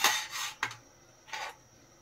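A spoon scrapes and rubs around a kadhai while macaroni masala cooks, giving a few short, soft scraping strokes separated by quiet pauses.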